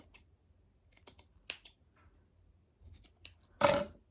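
Scissors trimming the back of a yarn pom-pom on a no-knit hat, several quiet close snips at irregular intervals with one louder, longer cut near the end.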